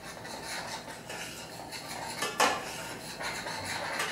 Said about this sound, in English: So we want to stir this butter and flour together into a roux.